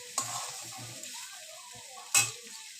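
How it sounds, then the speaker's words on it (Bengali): Amla pickle being stirred slowly in a pan, a soft continuous scraping with a gentle sizzle and two sharper clicks of the utensil against the pan, close and alone with no talk. "একটু টাইম লাগবে আস্তে আস্তে করে নাড়তে হবে"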